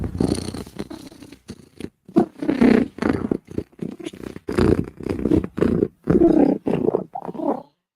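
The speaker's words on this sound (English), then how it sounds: "when Cat is purring, Cat is a very happy girl" A cat purrs in a steady, rumbling rhythm of pulsing breaths, close and fairly loud, with short pauses between the low vibrating bursts.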